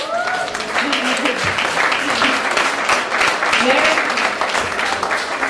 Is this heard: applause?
yes